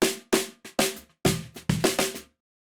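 A snare drum captured through both top and bottom microphones with the phase left uncorrected, played as a pattern of about nine sharp hits with slightly hollow, thinned body and bright wire sizzle, some in quick doubles, with no talking.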